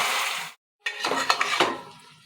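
Chopped tomatoes tip into a pan for a drumstick and tomato curry and get stirred in, giving a close burst of scraping and clinking utensil noise, a brief silent gap, then more clattering stirring with no talk.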